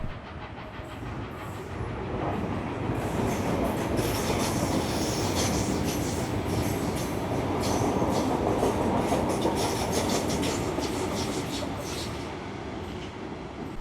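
A train in New South Wales passes with steam locomotive 4716 of the Lachlan Valley Railway assisting at the rear, giving a long, loud, steady rumble with rhythmic wheel clatter and squeals, no voices.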